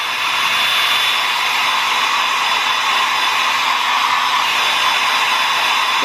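A hair dryer on its cool setting blows over a dog's fur during a facial grooming for tear stain removal, a steady, loud, unbroken whoosh held close by.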